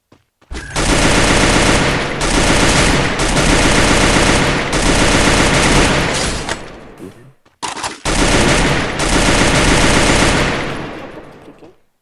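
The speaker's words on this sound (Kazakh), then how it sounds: "Қай жерде атыс отыр?" Gunfire in an online shooter video game, long loud bursts of rapid automatic fire that cut off briefly and then resume before fading out, with no talk over them.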